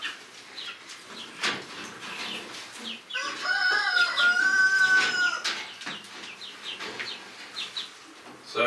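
Chickens cluck in a chicken coop, with scattered clucks throughout and a louder, drawn-out rooster-like crow in the middle, all close by.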